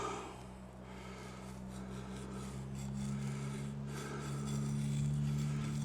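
A Ka-Bar Becker BK20 knife with its original factory edge carves shavings from wood, giving a steady close rasping scrape that grows slightly louder over a low background hum.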